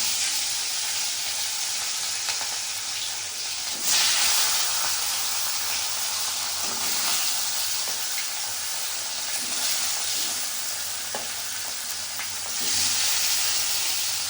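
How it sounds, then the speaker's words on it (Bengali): Rohu fish frying in hot oil, a steady loud sizzle and hiss with bursts that swell around four and thirteen seconds, close and continuous with no talk. "তেল গরম হয়ে গেছে, মাছগুলো দিয়ে দিই"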